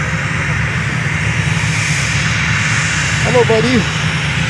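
A Cessna Citation XLS business jet at Fort Lauderdale airport gives a steady, moderately loud jet engine hum, with a brief spoken greeting over it.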